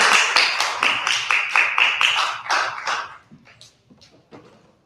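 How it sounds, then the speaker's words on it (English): A small group gives a brief round of applause for a panel moderator at a civic tech panel event: sparse, distinct claps in a fairly steady rhythm that thin out and fade to a few scattered claps near the end. "Let's give a round of applause"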